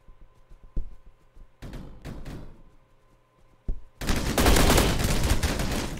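Gunfire in the Roblox shooter Energy Assault: a few sharp shots early on, then a dense, loud burst of rapid automatic fire sustained through the final seconds.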